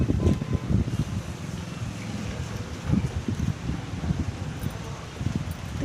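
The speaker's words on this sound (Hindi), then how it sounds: "बहुत तेज़ हवा चल रही है" Strong gusty wind roars outdoors during rain, buffeting the microphone with low rumbling bursts and rustling of sugarcane throughout.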